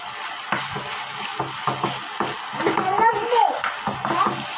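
Chicken pieces fry in hot oil in a frying pan, a steady crackling sizzle with intermittent stirring and clatter, under a child's and an adult's talk nearby.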